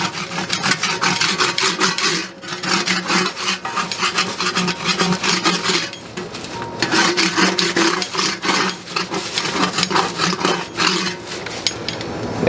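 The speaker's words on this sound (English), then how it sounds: "I'm just going to run a hard scraper on top of that. Get as much of that goop and gunk off there as I can." Hard scraper dragged across the metal surface of a GMG Davy Crockett pellet grill to remove caked gunk, producing continuous close, loud scraping and rasping with brief pauses.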